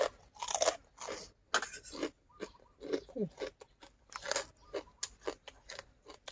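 Crispy Thai pork rinds (khaep mu) crunched and chewed up close, with loud, sharp bursts of biting and munching in an uneven rhythm and short pauses between mouthfuls, no talk.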